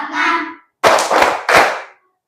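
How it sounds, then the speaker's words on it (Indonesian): Three hard claps follow a brief sung or voiced note, each a sharp, loud burst with a short ring, keeping time to a children's clap-along song in a classroom lesson. "Kalau kau suka hati tepuk tangan."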